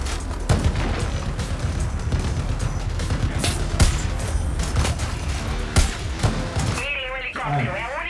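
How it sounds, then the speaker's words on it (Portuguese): Dense, loud gunfire from the Far Cry New Dawn video game, rapid bursts of shots with booming impacts over a noisy battle background, easing briefly near the end. "tô atirando aqui"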